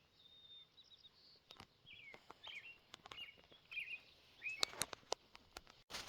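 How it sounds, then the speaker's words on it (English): Faint bird calls and chirps scattered through an otherwise quiet outdoor scene along a roadside bike trail, a few sharper tweets standing out near the end. "Can you hear all those birds?"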